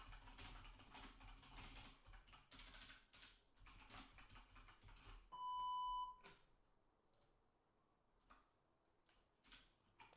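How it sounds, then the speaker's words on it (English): Quiet, rapid clicking of a computer keyboard in bursts of typing, interrupted midway by a single steady electronic beep, then a few scattered keystrokes at low level. "as I'm typing on Twitter"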